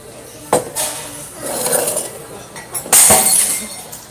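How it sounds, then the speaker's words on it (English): A glass is dropped and shatters at close range with a sharp crash, followed by tinkling shards and a second bright burst of breaking glass, with people talking around it. "she's just dropped glass on me"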